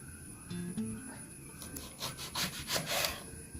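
A knife cuts an eggplant into rounds for frying. A few soft, quick cutting and scraping strokes sound up close against a board, set over faint background hum, with no talking.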